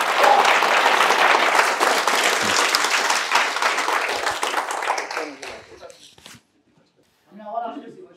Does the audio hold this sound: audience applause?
yes